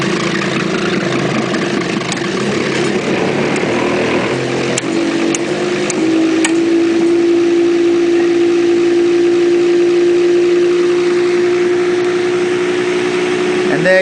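A small homemade box motor with 7 coils, fed through a variac, spins up to a steady electrical whine that rises and settles into a sustained hum under a constant background drone, fairly loud and close.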